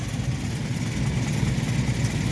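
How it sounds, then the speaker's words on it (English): A classic car engine idles steadily at close range, a continuous low rumble with an even, unchanging tone throughout and no voices over it. "and the vehicle is idling"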